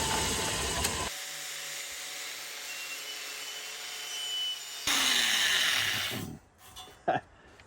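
Power saw cutting a roughly 4.5-inch length of steel pipe in a fabrication shop, a steady loud grinding whine that runs for several seconds, shifts to a harsher pitch near the end, then cuts off abruptly.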